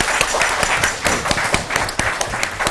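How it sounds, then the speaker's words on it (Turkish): Applause from an audience welcoming a guest, the head of a community association, at a gathering: dense, steady clapping from many hands, fairly close and loud throughout, with no talk over it. "Onlara da şöyle canı gönülden büyük bir alkış Erhan Yılmaz Beyefendi'ye"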